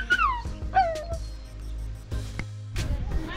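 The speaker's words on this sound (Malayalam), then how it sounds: "പക്ഷേ ഒരു നായ അവിടെ കുടുങ്ങിയിട്ടുണ്ട്," A dog trapped somewhere in a hillside village lets out a few high, falling whimpers and yelps at close range, separated by quieter gaps with some background rustling.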